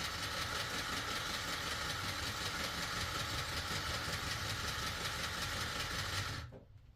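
Singer serger sewing machine stitching fabric, a rapid continuous mechanical whirr at close range that runs steadily for about six seconds before stopping.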